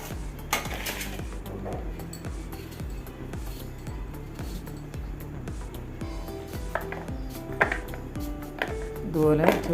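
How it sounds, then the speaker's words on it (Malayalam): A knife chopping dried coconut into small pieces, with steady rhythmic clicking taps on a board running through much of the clip under a speaking voice, with clinks near the end. "ഇതുപോലെ ചെറിയ പീസാക്കി നമുക്ക് അരിഞ്ഞെടുക്കാം."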